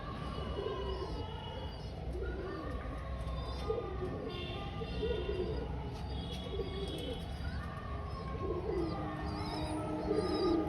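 Several house pigeons keep up a continuous, overlapping cooing, repeated warbling phrases close by, with faint chirps and a steady ambient hum beneath.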